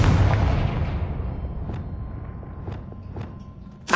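A Confringo fire spell blasts in a wizarding video game with a loud, deep boom that rolls off into a long decaying rumble, dotted by a few faint crackles before a sharp burst at the end.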